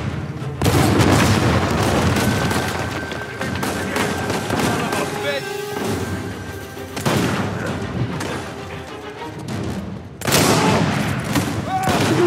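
Grenade blasts and gunfire in the Uncharted 4 video game, loud and dense, with repeated booming bursts and rattling shots across the stretch and a player talking over it.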